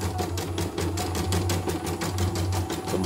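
An M7 embroidery machine runs steadily during a test stitch, giving a loud, fast rhythmic clatter of needle strokes over a constant motor hum, with no talking.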